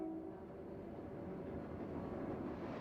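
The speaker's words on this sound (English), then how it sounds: "The north track in the foreground frames a BN SD 40-2 leading an eastbound manifest freight on the" Eastbound BN manifest freight led by an SD40-2 locomotive on the Mojave desert main line, a steady, even rumble of diesel engine and rolling wagons held at a constant level throughout, with no voices.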